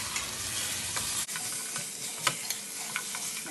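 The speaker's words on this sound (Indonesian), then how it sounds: "bisa kita masukin nih kaki babinya. Nah ini kita bisa tumis terus sampai air dari dagingnya itu kering" Pork trotters stir-frying in spice paste, a close, steady sizzle with repeated spatula scrapes and clacks against the pan.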